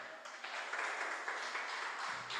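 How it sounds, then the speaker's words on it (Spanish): A church congregation applauds, a soft, steady patter of many hands clapping that swells slightly and then fades a little, heard at a distance and fairly quiet. "Denle un aplauso al Señor"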